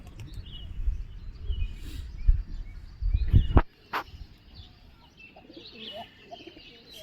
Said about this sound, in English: so many pigeons